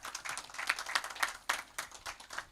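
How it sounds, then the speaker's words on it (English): Audience applause fills a conference hall after a keynote speaker is welcomed at a Rongo University international conference, a steady patter of many hands clapping at moderate volume. "Dr. Carol, a round of applause again."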